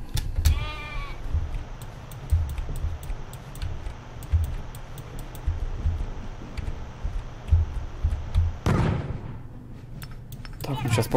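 A cartoon sheep in the video game Wormix gives a short, wavering bleat near the start. Busy game sounds and a low rumbling background run throughout, and a sharp whooshing burst comes near the end.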